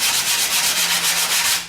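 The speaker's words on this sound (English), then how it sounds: "So I'm going to sand into this fender like this." An 80-grit sanding pad works across a car fender body line, giving a steady, close rhythmic rasping in repeated back-and-forth strokes with no talk.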